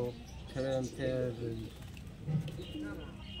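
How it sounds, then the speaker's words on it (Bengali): Madras pigeons coo in short low throaty phrases close by, while someone talks over and between the calls. "পায়রা আমাদের এক কেজি পায়রা দেখতে পাচ্ছেন"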